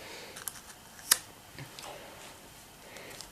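Scissors snip paper while making an Easter bunny gift bag. A couple of sharp, crisp cuts stand out over faint background noise.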